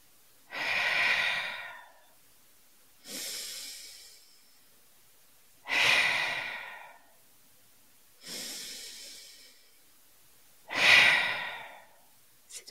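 A person doing slow, deep breaths as a grounding exercise: five long airy exhale-like breaths in a steady rhythm with pauses between, close and clear with no talking.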